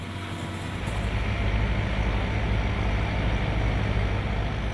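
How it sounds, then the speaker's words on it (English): A tractor-pulled fruit harvester approaches, a steady low diesel drone with mechanical rumble that grows slightly louder as it nears, continuous and without voices. "What you're looking at coming towards you is the harvester. It's pulled with a tractor"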